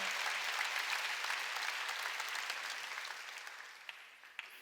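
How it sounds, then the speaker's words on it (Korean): Korean Sunday worship congregation applauding to give glory to God: a broad wash of clapping that starts full and gradually thins and fades, with a few scattered late claps near the end. "깨닫는 사람만 박수로 하나님께 영광을."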